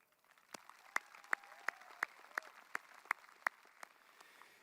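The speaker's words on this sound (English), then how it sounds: "give a most sincere thank you and a round of applause to your parents, guardians, grandparents, teachers" A small, scattered group claps at a graduation ceremony, soft and distant, with a handful of sharper individual claps landing at a roughly regular pace over faint background murmur.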